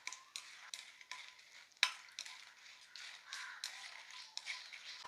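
Dried red chillies roasting in a pan over a low flame, heard as soft, repeated scraping and stirring strokes with a faint crackle and one sharp tap, quiet and close.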